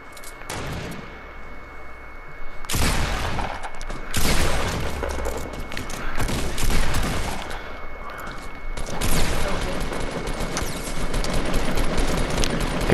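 Fortnite battle gameplay, with dense rapid gunfire bursts and heavy booming shots in loud clusters throughout, while players talk over the shooting.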